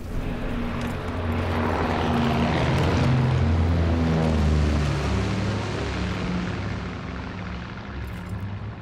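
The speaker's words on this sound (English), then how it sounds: "Enemy recon aircraft observed." A propeller recon aircraft in Call of Duty: WWII drones overhead, its steady engine roar swelling as it passes close and then slowly fading, with no talk.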